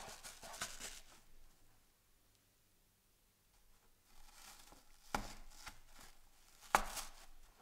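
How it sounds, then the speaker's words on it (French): Paper strips cut with scissors for the edge of a table decoration: two sharp, close snips stand out near the end, with soft rustling and handling sounds early on and a quieter stretch in between. "Donc je coupe des bandes que je vais agrafer"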